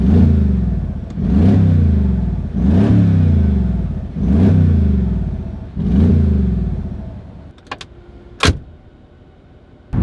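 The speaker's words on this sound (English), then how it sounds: "So let's hear the engine, guys, together." A 2017 Mercedes-Benz G63 AMG Edition 463 engine revs loudly close up, rising and falling in five strong surges, then settles to a quiet idle with a few sharp clicks.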